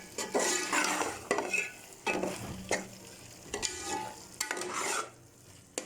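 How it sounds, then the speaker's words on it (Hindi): A spoon stirs ash gourd halwa in a pot over a slow flame, giving repeated scraping and swishing strokes in bursts with short pauses, close and moderately loud, with no talking. "इसको चम्मचे की मदद से मिक्स स्लो फ्लेम पे।"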